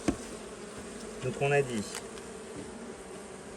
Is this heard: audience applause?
no